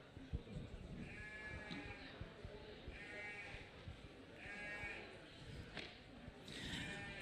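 Sheep penned at a shearing and woolhandling championship in Ireland bleat several times at a moderate distance, with a low murmur of people and crowd noise underneath.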